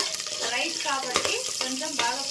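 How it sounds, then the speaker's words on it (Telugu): Onions fry in a pan, sizzling continuously while a utensil stirs and scrapes them in irregular strokes, close by. "ఆనియన్ బాగా ఫ్రై అవ్వాలన్నమాట."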